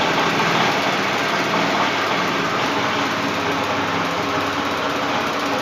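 Small spark ignition engine running under Arduino control, a steady buzzing drone at constant speed, close and fairly loud, with no talk.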